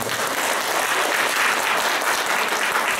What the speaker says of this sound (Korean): 오늘 수고해주신 발제자분과 토론 패널자분들께 다시 한번 큰 박수 부탁드리겠습니다